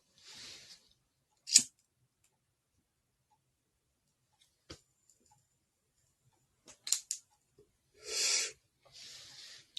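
Lighting a cigar comes through as sparse, close lighter clicks and sharp strikes followed by soft breathy puffs and hisses of drawing on it, isolated sounds in near silence.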